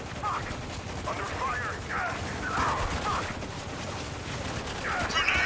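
Gunfire in the video game Spec Ops: The Line, a run of bursts and volleys across a combat scene, mid-distance and fairly steady, with voices shouting intermittently over it.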